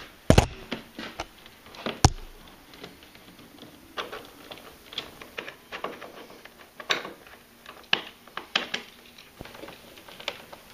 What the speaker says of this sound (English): Four torque screws to remove the hood, two on each side.